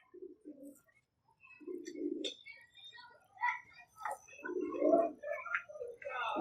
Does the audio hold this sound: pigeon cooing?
yes